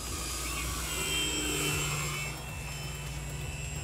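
Katana 60 RC aerobatic airplane circling overhead, its model engine a steady, fairly loud whine with a sustained high tone and slight pitch shifts, carrying on without a break and with no talking.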